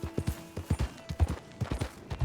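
A horse in Red Dead Redemption 2 trots along a dirt path, its hooves clip-clopping in a steady, close, fairly soft rhythm with no talk over it.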